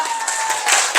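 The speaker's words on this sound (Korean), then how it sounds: "이렇게 좋은 얘기하면 박수도 쳐봐 좀." An audience at an education seminar claps briefly, a short burst of scattered applause that swells at the end.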